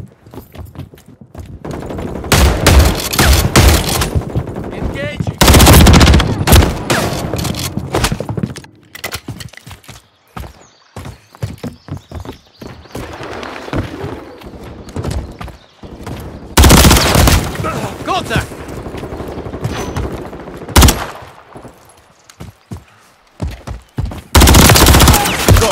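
Bursts of automatic gunfire in a Call of Duty match come in several loud, dense volleys separated by quieter stretches, with brief voice callouts between them.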